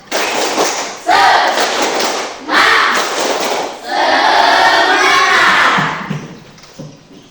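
A class of students claps and shouts a spirit chant together in loud rhythmic bursts, with pauses between phrases, fading out near the end.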